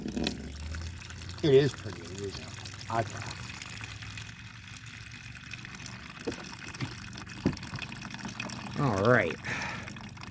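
Water is poured from a bucket and trickles through a filter while potash is being prepared, with intermittent sloshing and gurgling bursts beneath someone talking and laughing.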